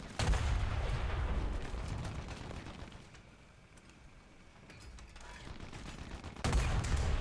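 Tank cannon and machine-gun fire rings out in War Thunder during a Leopard 2 PSO test battle. A loud heavy blast opens, then the sound settles into a fading rumble, and a second loud burst comes at the end.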